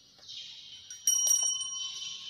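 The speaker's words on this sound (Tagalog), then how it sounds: "Ito po yung bell namin." A church bell at St. John the Baptist church rung during a sound check, giving bright ringing tones with a sharp louder strike about midway that keeps sustaining to the end.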